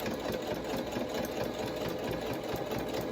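A sewing machine stitches a fabric face mask, its motor whirring in a steady, continuous run close by, with no talk over it.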